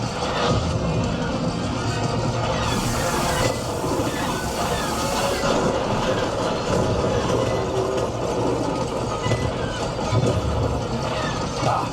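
A train rolls steadily along the tracks with a loud, continuous rumbling roar and a faint clatter that runs throughout.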